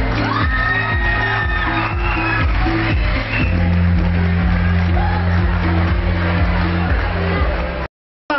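An audience at a foundation day event cheers and shouts loudly for a judge's introduction, a dense, sustained roar of voices and whoops with a low droning hum beneath, cutting off abruptly near the end.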